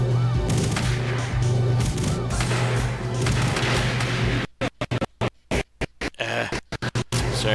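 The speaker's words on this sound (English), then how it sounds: "I was just shooting at his body because I knew it was damaging him" Arcade-style gunfire from the 1994 Sega light-gun game Virtua Cop, a dense, loud barrage of shots that breaks into choppy bursts with brief silent gaps toward the end.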